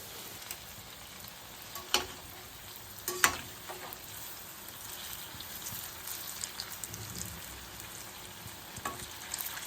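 Dahi bhalla lentil dumplings deep frying in hot oil, a steady soft sizzle and crackle with a few sharper pops and clinks of a spoon, close and fairly quiet, no talking.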